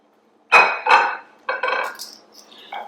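A lemon zest mixture for pork Milanese being stirred in a bowl, a few loud, close clinks and scrapes of a utensil against the bowl in short bursts, with no talking.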